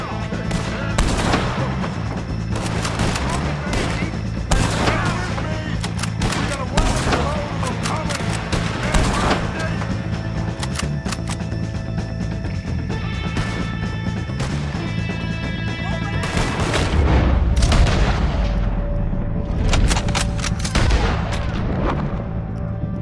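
Dense, continuous gunfire rattles through a Red Dead Redemption 2 firefight, with rapid overlapping shots and booming reports over a loud game soundscape, and voices shouting between volleys.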